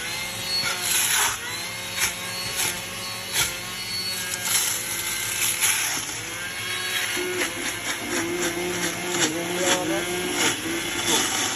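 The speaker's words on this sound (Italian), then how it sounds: "e con il frullatore rifrulliamo." Prickly pears from Sicily being blitzed in a blender for sugar-free gelato: a steady, dense motor whir runs throughout, with a voice talking over it.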